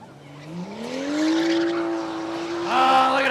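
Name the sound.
BMW car doing a burnout at drag race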